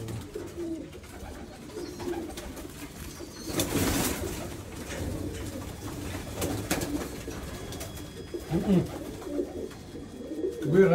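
Teddy pigeons from an Oman loft cooing in low, throaty murmurs close by, with a brief burst of wing flutter or handling noise partway through and soft background murmuring.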